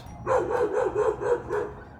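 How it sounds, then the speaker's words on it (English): A dog barks in a quick run of about six evenly spaced, fairly loud barks outdoors, with no other sounds over them. "you're outside talking, so the dog is barking"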